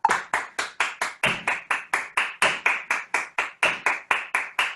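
Hand claps in a steady rhythm, about twenty crisp, evenly spaced claps close up with nothing else audible, used to count out a beat in a music lesson on subdivision.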